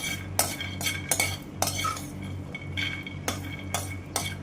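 Koora podi spices and ingredients being dry-roasted in a pan, stirred with a metal spoon that gives repeated sharp scrapes and clinks at a loose rhythm over a low steady hum.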